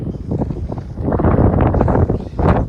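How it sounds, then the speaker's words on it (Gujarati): Gusty wind buffets the microphone in loud, rumbling bursts that rise and fall throughout beside a full dam near Ambardi Safari Park, Dhari, with no clear speech. "થોડોક પવનનો અવાજ ભોગવી લઈ ગયો, કારણ કે મારો અવાજ ઓછો આવી છે"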